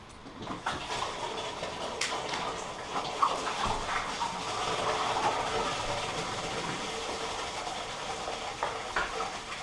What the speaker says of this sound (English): is pour your cider.